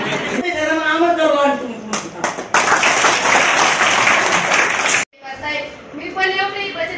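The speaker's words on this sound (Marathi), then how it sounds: "आपल्या सरपंच टाळ्या मारून स्वागत" A crowd at a village women's gathering breaks into sustained, dense applause to welcome the village head, loud and close between stretches of amplified speech, then cuts off abruptly before talking resumes.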